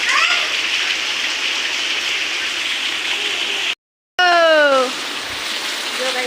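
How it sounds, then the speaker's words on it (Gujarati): Morning rain falling, a steady hiss of rainfall that briefly cuts out, then returns with a short voice-like tonal sound before settling back to constant rain. "જો ભાઈ વરસાદ ચાલુ હે"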